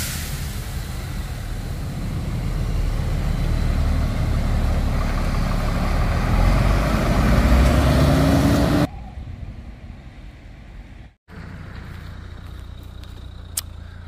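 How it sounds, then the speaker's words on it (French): Trucks and cars roll in along the Milou road, a loud rumbling mix of heavy and lighter engines for about nine seconds before cutting to a quieter, distant engine hum. "Voilà l'arrivée des camions et des voitures ici"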